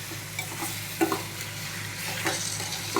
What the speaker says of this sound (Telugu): ఇలా అంతా కలుపుకుందాం